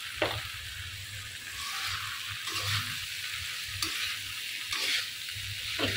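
Ground spice paste with chili frying in a pan, a continuous close sizzle punctuated by repeated scraping strokes of a spoon stirring, with no voices.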